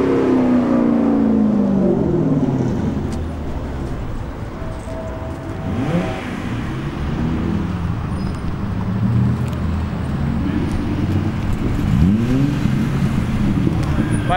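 Loud rally car engines roar and rev continuously at a car rally event, with vehicles passing close by in sweeping rises and falls of pitch amid traffic noise.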